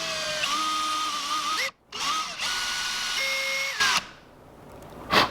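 A drill with a 3/8 inch bit bores a hole into a homemade crankbait, a steady high whine with rising pitch sweeps, broken by two brief stops and a short burst at the end.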